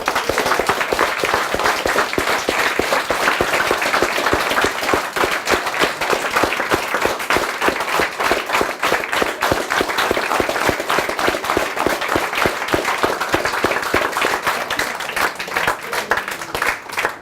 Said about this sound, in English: give everyone around you the biggest round of applause that you can muster